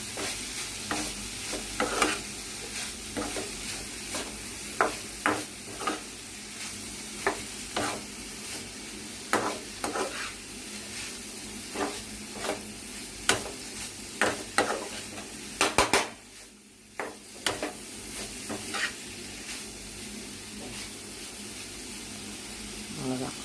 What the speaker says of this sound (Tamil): அதை அதில் போடுறேன். போட்டு நல்லா திருப்பி விட்டுறேன்.